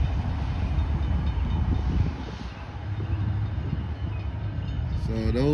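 A Canadian Pacific freight train rumbles steadily near a downtown level crossing, a continuous low broadband roar with wind buffeting the microphone, and a brief rising tonal whine appears near the end.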